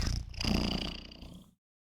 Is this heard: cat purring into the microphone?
yes